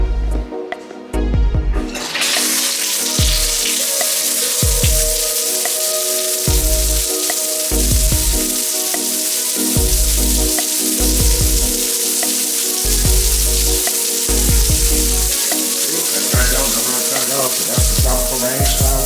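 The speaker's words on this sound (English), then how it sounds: "That's the tropical rain shower." Strong spray of water from a tropical rain shower in a cruise ship spa, a loud continuous hiss with low rumbling bursts that surge and fade in a regular pulsing pattern.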